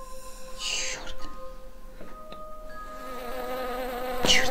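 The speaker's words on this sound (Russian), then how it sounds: "Погнали ловить проклятую пчелку Майю Экзе." A bee buzzes in a horror video game, a droning, wavering hum that passes near and fades, with some scattered noisy bursts around it.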